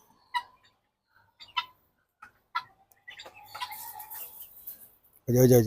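Chickens cluck in short, spaced calls while eating mealworms, then a busier stretch of overlapping clucks and scuffling, ending in a sudden loud burst of a rooster flapping nearby.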